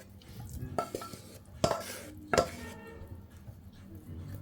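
Pre-boiled apples go into a very hot buttered pan in three separate drops, each a clattering knock against the pan, heard close over a quiet background sizzle without talking.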